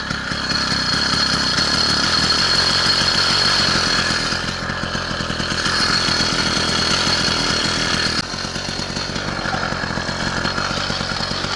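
A small motorcycle engine runs steadily after a quick start outdoors, a continuous buzzing idle that stays loud and close with no voices.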